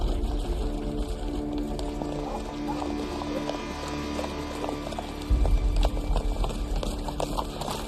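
Horse hooves clop steadily and repeatedly over a busy, rumbling background, growing a bit heavier toward the end.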